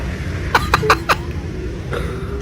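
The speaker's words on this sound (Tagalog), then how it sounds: "Ay, yung ubo pala." A quick burst of four harsh coughs, close and loud, followed by a softer throat sound after a short pause.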